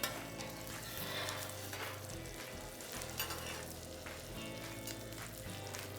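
Asparagus fries in butter in a pan, giving a soft, steady sizzle and crackle with faint stirring scrapes, quiet and close with no talk.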